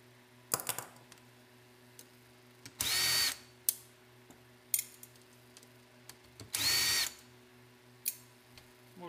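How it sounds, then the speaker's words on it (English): A power drill whirs in two short bursts to back screws out, with clicks, taps and small clattering handling noises in between, nearby in a quiet workspace. "take the screws out, throw them in my screw container"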